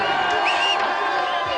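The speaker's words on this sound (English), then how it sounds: "Let's have a big cheer for Robert." Studio audience cheering on a television game show, a loud burst of crowd whoops and cheers with shouting voices, brief and close.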